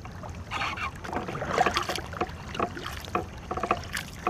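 War canoe paddles dragging and splashing through the water during a college crew practice, a steady rhythmic wash of strokes heard close by with some wind.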